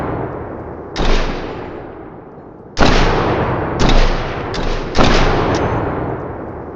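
Rifle gunfire in the video game Hiraeth: four or five loud, booming single shots spaced a second or so apart, each with a long decaying echo, heard alone.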